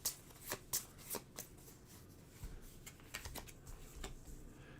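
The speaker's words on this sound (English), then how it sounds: "Shuffle them up." A deck of tabletop game playing cards shuffled by hand close up, quiet with crisp riffling bursts and soft flicks in an irregular rhythm and no talking.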